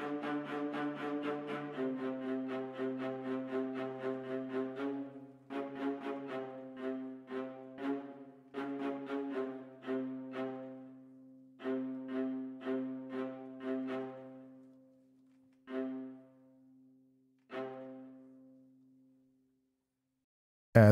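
An orchestral string section with viola plays a fanfare in crisp, rhythmic bursts of repeated notes that thin out toward the end, clean and alone with no talking.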